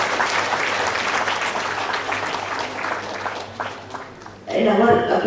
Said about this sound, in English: we should give an applause to him also